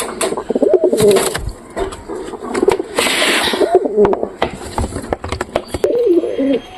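Pigeons coo in soft, rolling phrases close by, mixed with flapping wings, pecking clicks and scuffling.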